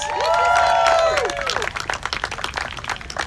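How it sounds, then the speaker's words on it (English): A crowd of protesters outside the Capitol applauds Senator Bernie Sanders with loud, dense clapping and cheering, with whistles and whoops rising and falling in the first seconds. "How about a round of applause for Senator Bernie Sanders?"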